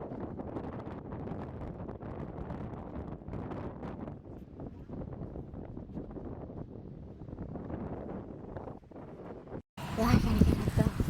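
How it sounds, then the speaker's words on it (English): Strong wind buffets the microphone at a beach, a steady broadband rumble and roar lasting about ten seconds before a brief drop and a louder gust. "we're at the beach and it's really windy"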